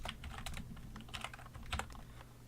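A password being tapped out on a computer keyboard, a steady run of quick, light key clicks at close range, quiet and unaccompanied by speech.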